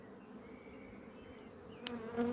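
Honeybees in an open male-rearing hive make a faint, steady buzzing hum, with a couple of brief sharper knocks near the end.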